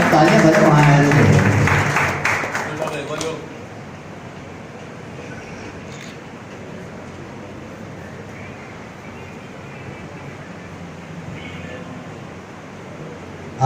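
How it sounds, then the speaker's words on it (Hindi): Audience applause at a gathering, a burst of clapping lasting about three seconds that then drops away, leaving a quiet, hissing room. "तालियां तालियां तालियां तालियां बजाओ।"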